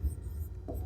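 Marker or chalk writing on a board during a physics lesson, a short scratchy stroke running continuously for under a second with no talk over it.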